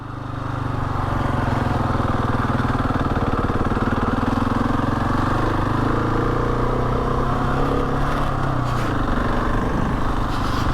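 A Husqvarna 701 Enduro single-cylinder motorcycle holds steady revs in first gear under clutch control through a sharp bend on Wrynose or Hardknott Pass in winter, a close, loud, continuous engine drone with small rises in pitch.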